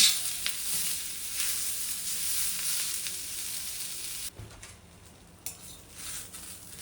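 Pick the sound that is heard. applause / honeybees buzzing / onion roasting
onion roasting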